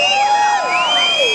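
Outdoor block-party crowd in Anderson, SC cheering, whooping and applauding loudly on cue for a stage announcer, a dense continuous roar of voices and clapping with high shouts rising over it.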